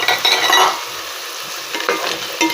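Taro being added to a simmering pot of sinigang with mussels and shrimp, with close stirring and clattering against the pot over a steady bubbling hiss; no talking.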